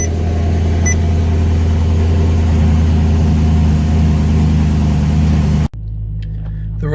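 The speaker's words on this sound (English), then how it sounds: "The rough, loud cold start is mainly to warm up the catalytic converters." A BMW E92 M3 engine runs at a loud, rough cold-start idle, a steady heavy drone that holds for several seconds, then drops abruptly to a quieter, lower idle.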